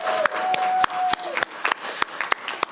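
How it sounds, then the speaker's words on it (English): Scattered applause from a convention panel audience, individual claps ringing out irregularly and thinning toward the end, with a brief tone and a voice under the opening half. "Does everyone want to give a round of applause for contact information?"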